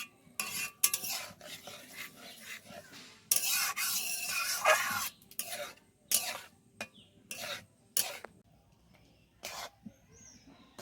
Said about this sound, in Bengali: এটাকে কিন্তু হালকা আছে কন্টিনিউ নাড়তে হবে